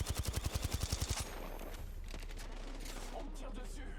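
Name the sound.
gunfire in the video game Apex Legends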